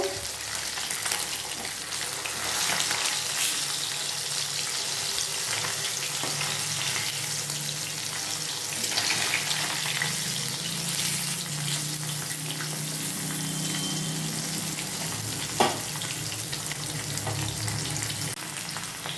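Fish fries in hot oil in a pan, turned over to cook the other side, giving a constant loud sizzle with scattered pops and a brief clatter near the end.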